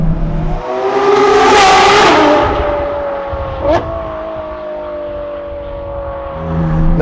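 A Novitec-tuned Ferrari 12Cilindri with its naturally aspirated engine and aftermarket exhaust pulls on an open road in cold weather without being floored, its note climbing loudly to a peak, then settling into a steady drone with a brief pop.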